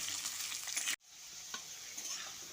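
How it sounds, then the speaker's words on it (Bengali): Potatoes hit hot oil after tempered spices, giving a loud, close sizzle that cuts out abruptly and then settles into a quieter, steady crackling fry. "ফোড়ন কয়েক সেকেন্ড ভেজে নেওয়ার পর এর মধ্যে প্রথমে আলুগুলো দিয়ে দিচ্ছি আলুগুলো দিয়ে হালকা করে ভেজে নেব"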